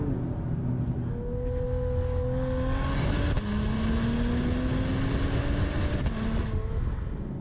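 Synthesized engine note of a 2021 Acura TLX Type S piped through the cabin speakers in Sport Plus mode, rising in steady pitch sweeps as the sedan accelerates through gears, with a brief shift dip and continuous road roar underneath.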